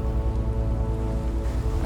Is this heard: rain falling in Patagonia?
yes